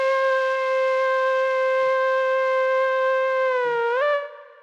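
A single long note from a flute patch on an AKAI MPK mini MIDI keyboard is held steady, then bends briefly in pitch near the end before cutting off. The tone is clean and sustained, with no one talking.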